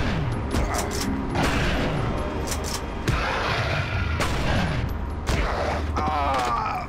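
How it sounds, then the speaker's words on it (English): Scatter gun fire in a video game, sustained dense blasts and booming bursts that keep the mix loud throughout, with mechanical clatter and a voice talking briefly underneath. "How do you miss with a scatter gun?"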